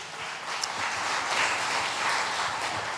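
Applause from a church congregation at a Sunday service, a steady wash of many hands clapping together, moderately loud and continuous for the whole stretch.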